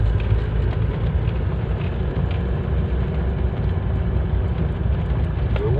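Heavy rain pours down during a storm in Australia that lasts three days without stopping, making a dense, unbroken roar with no letup and no voices.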